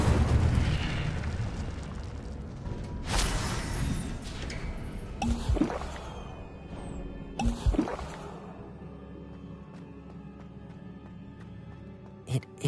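Incendio fire spell cast in Hogwarts Legacy, heard as a few sharp whooshing bursts with a dense rumbling blast early on, followed by quieter lingering crackle and faint later pops.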